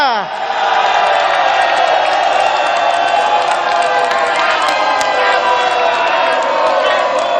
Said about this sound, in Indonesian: Saya ingin minta suara yang paling meriah dari para pendukung pasangan calon nomor 1 dan juga 2.